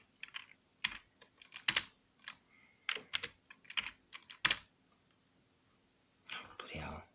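A computer keyboard is typed on in short bursts of close, crisp clicks with sharper single key presses, pauses between, and a brief soft voice near the end.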